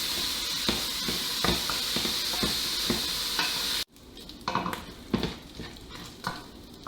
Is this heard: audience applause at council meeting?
no